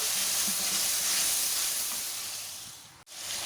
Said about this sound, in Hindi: और इनको मैं मसालों के साथ अच्छे से फ्राई कर लूँगी